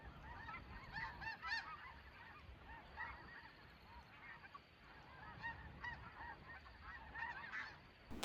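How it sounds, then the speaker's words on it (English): A large flock of snow geese honking continuously outdoors, many overlapping calls rising and falling at a moderate distance, with no voices. "Oh, snow geese."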